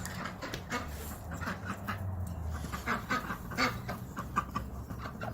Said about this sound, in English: Ducks annihilate a bowl of peas.